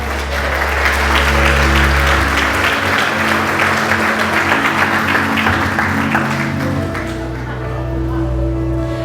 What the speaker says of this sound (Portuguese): Aplauda Jesus aí, meu filho